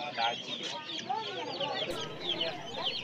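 Desi chickens crowd the Uluberia hen and duck market, clucking busily in overlapping calls close by while people talk in the background.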